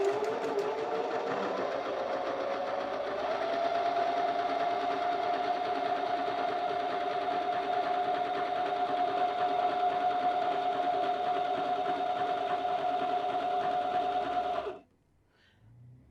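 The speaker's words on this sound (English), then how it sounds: "Let's begin sewing this manual buttonhole." A Baby Lock Zeal BL35B sewing machine stitches a manual buttonhole in one steady, continuous whirring run at an even pace, then stops abruptly near the end.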